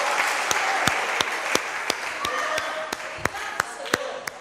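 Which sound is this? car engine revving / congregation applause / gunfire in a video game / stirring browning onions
congregation applause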